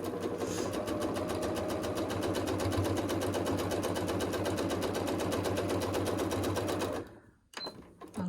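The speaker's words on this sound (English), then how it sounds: "We're going to sew right along the line, right down that center." A sewing machine stitches a quilt block straight along a marked center line, running steadily and loudly for about seven seconds with a rapid even needle rhythm, then stopping, followed by faint handling noises.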